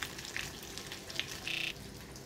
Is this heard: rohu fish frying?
yes